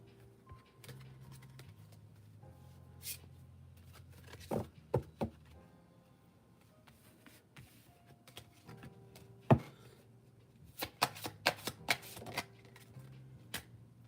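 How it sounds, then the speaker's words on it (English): A tarot card deck shuffled by hand in a quiet room: bursts of crisp card riffles and taps come in uneven clusters, soft and close, with a faint low hum between them and no talking. "Hold up, I shuffled the deck upside down."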